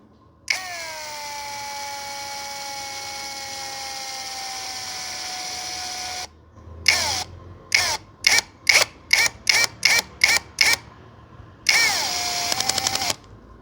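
A Hanabi LJ2005 cordless drill driving a small screw into soft, fragile wood: a long steady motor whine, then a quick series of short clicking pulses, and a final brief whir, close and clear with no talk.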